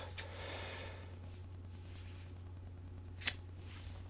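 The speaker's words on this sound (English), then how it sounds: "just snip them right off of there" Quiet room with a low hum, broken by a couple of sharp scissor snips cutting rope strands, one near the start and a louder one toward the end.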